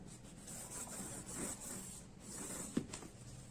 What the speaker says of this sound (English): You can just do this and just burnish this down.